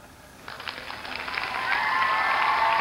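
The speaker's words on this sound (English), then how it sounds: "Some cheering down at the speech." A distant crowd cheers at a speech in a Julius Caesar stage scene, a muffled roar that rises and swells steadily over a few seconds.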